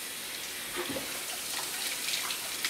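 Tap water runs into a sink while dishes are rinsed, a steady close stream with light clinks and splashes of handling, no voices.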